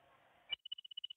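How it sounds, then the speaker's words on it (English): A mobile phone goes off indoors during an unboxing of Hot Wheels cars, sounding a quick, steady series of short repeated electronic tones that cut in sharply after faint background chatter fades. "Sorry, my phone."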